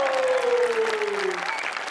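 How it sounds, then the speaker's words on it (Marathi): A studio audience gives a steady wash of applause at a Marathi TV celebrity show, welcoming a singing act. The applause is full and continuous, with a thin whistling tone gliding down through it. "टाळ्या."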